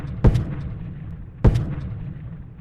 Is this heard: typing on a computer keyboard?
no